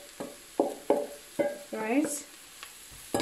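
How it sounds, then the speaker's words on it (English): Spinach stirred and frying with onions in a pan, heard as a series of short scraping, sizzling bursts at a close distance, about six strokes in a few seconds, with a brief spoken word. "And just go in and also fry your spinach with your onions"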